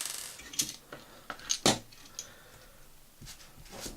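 Small metal screws for an ODROID CloudShell2 case are picked up and clink together in a few sharp, close ticks and rattles, with quiet gaps between them and no talking.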